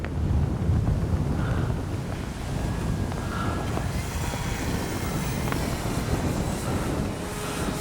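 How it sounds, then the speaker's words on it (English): Strong wind buffets the microphone in a steady, loud roar with gusty rumbling throughout, no voices. "Oh boy, is it windy."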